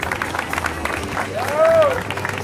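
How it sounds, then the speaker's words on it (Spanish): An outdoor crowd at a marathon award ceremony claps briefly in a scattered patter beneath amplified announcer talk and a burst of feedback ring. "Fuerte esos aplausos"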